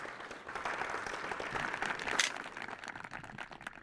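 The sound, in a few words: audience applause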